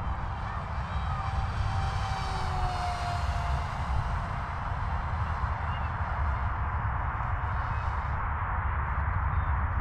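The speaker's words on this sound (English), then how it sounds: "Let's do another full throttle pass." Small AR Wing Pro RC plane on a full throttle pass, its high electric whine steady under a broad airy wash, the pitch shifting slightly as it passes, with no voices.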